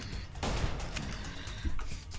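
Bursts of gunfire in Fallout: New Vegas during a fight against the Legion at Cottonwood Cove, with several sharp reports and a steady combat din filling the short clip.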